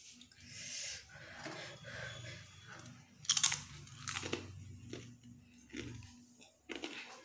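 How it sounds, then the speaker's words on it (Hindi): Close, quiet crunchy chewing of a bite of chole dinner, with soft repeated bites and mouth sounds, occasional faint voice in the background. "अब मैं एक बाइट लेती हूँ, आपको बताती हूँ ये कैसा बना."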